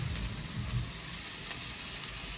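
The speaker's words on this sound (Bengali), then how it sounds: "এবার এর মধ্যে দিয়ে দেবো একটু টমেটো কুচি।" Chopped tomato added to spices with turmeric sizzling in a frying pan, a loud, dense, continuous frying hiss filling the whole moment with no voices.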